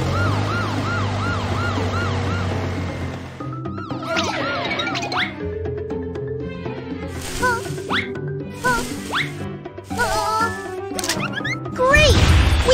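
A cartoon police car siren from a BabyBus children's vehicle game wails in rising and falling sweeps, joined by bright game sound effects and a few sharp hits.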